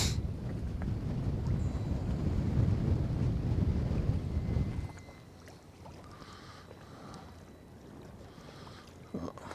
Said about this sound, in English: That wind has swapped around to southerly now, so it's getting a bit frisk